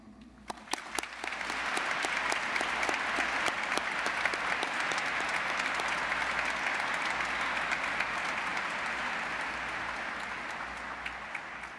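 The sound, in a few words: applause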